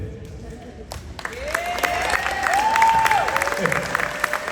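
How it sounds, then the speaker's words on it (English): An audience at a school ring ceremony for a sports team claps steadily at moderate volume, with rising whoops and cheers over the clapping. "Let's give one more round of applause"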